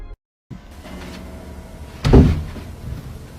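A house door opening or closing at night, a single muffled thud and rattle against a quiet background hum after a brief dropout.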